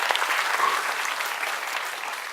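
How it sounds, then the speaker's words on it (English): An audience at a science circus show applauds in a brief burst of dense, even clapping, fairly soft and distant, lasting a couple of seconds. "Let's give them a round of applause."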